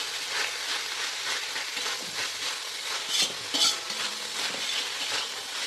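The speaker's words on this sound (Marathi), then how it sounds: "आता आपण टमाटे टाकून घेऊया आणि थोडं अजून परतून घेऊ." Paneer bhurji with tomatoes is stirred and fried in a pan, with a steady close sizzle broken by repeated scraping strokes of a spoon or spatula against the metal.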